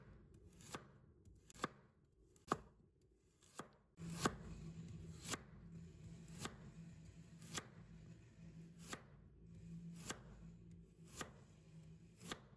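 A knife chops steadily through a carrot on a cutting board, sharp evenly spaced knocks about one per second, close and clear with no talking.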